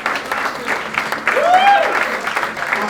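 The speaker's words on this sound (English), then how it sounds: "round of applause for Steve winning the best pot" At a golf day gathering, a crowd applauds an award winner with brief, moderately loud clapping, along with murmuring voices and a short whistle-like tone in the middle.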